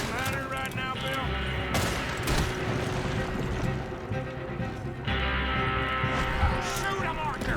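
Gunfire in the Western game Red Dead Redemption 2, dense bursts of shots and booming blasts over a continuous rumble, mixed with voices talking.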